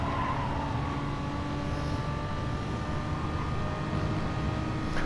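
Race car driven in a racing video game, a steady high engine whine with faint tyre and road rumble underneath, fairly quiet and unbroken, no voices.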